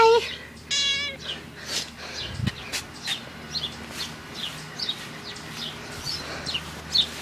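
A cat meows a few times outdoors during yard mowing, with soft bird calls and low ambient noise around it.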